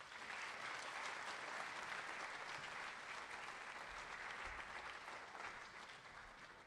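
At a spring banquet for an agricultural program, the audience gives a steady round of applause, dense clapping sustained throughout and slowly tapering off, heard from within the hall.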